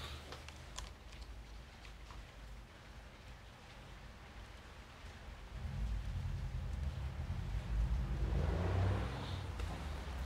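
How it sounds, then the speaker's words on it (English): Steady rain on a surface, a broad continuous wash that swells louder partway through, with no voices. "Is it raining again?"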